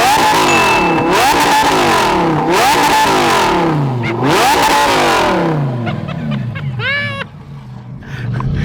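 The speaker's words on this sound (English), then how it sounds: "And then you start revving." A Lamborghini Gallardo V10 with an Avior exhaust revs hard several times in a row, each blip a loud rising-and-falling wail up close, before settling toward a rougher idle near the end.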